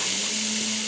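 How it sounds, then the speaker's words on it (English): Steady broadband sizzle of a pound of ground beef browning on the saute setting of a Ninja Speedi, constant and close with a faint low hum underneath. "I have a pound of ground beef I'm going to add in here and get it browned up."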